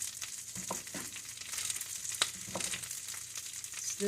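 Brussels sprouts sizzle steadily in a frying pan, a continuous hiss of oil punctuated by soft scraping and tumbling as they are stirred, with no one talking.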